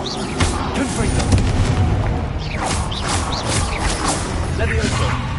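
The Confringo blasting spell detonates in Hogwarts Legacy, a booming explosive burst with crackling debris and rumble, mixed with other game spell effects and a voice speaking over it.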